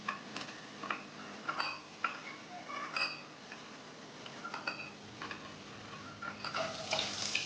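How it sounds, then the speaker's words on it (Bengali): Bori lentil dumplings fry in leftover fish-frying oil in a kadai, giving soft sizzling with scattered ticks and stirring clinks, quiet and close. "ওই মাছ ভাজার তেলেই আমি বড়িগুলিকে আগে ভেজে তুলে নিলাম"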